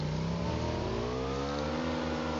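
A motorbike engine in a video game revs steadily and loudly, its pitch climbing as the throttle opens, running alone without talk.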